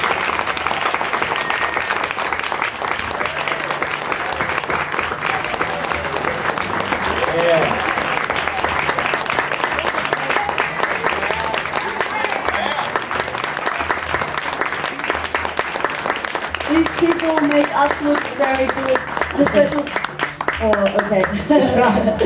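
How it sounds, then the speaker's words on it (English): Theatre audience after a Romeo and Juliet performance applauds the crew in a long, loud, sustained ovation, with voices and cheering mixed into the crowd noise. "Round of applause. Round of applause."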